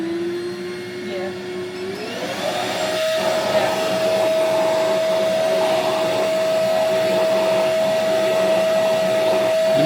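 Dog grooming vacuum and hair dryer running together, a loud continuous whooshing roar with a whine that rises in pitch and then holds steady, while a person speaks briefly over it.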